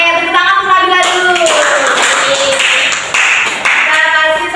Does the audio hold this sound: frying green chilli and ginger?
no